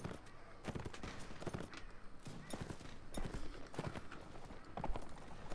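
Horse hooves clip-clop in the Mount&Blade video game, a brisk run of irregular hoofbeats with scattered louder thuds, fairly faint in the game mix.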